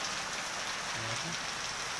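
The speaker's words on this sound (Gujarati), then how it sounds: "વરસાદ જોરદાર પડી રહ્યો છે" Heavy rain pours down steadily near a main road in Karamsad, a constant close, dense hiss of drops on surfaces with no pauses and no voices.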